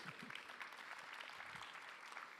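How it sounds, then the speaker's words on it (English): An audience at a startup competition final applauds, a dense patter of clapping that holds steady for a couple of seconds at moderate distance. "Let's hear a round of applause."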